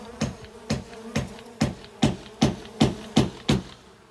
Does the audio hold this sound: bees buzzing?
yes